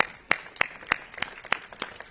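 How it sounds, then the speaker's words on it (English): Applause at a ribbon-cutting ceremony for a housing development: sparse, evenly spaced claps, roughly three per second, sound fairly near and moderate against a quiet background. "Really give them a round of applause."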